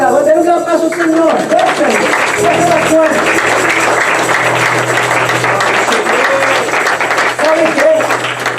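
Church congregation applauding in sustained, dense clapping, with a voice talking over it at the start and a steady low hum underneath.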